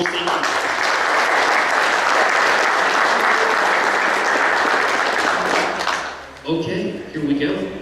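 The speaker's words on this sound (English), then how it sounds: "So, round of applause real quick for these folks." Audience applause for a superintendents panel at a construction conference, loud and close, sustained for about six seconds before cutting off, followed by someone briefly talking.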